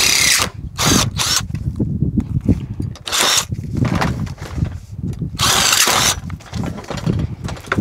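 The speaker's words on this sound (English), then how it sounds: "Drill these out." Power drill drilling out fasteners on an RV patio awning, loud close bursts of whirring and grinding that start and stop several times, with rattling mechanical clatter between runs.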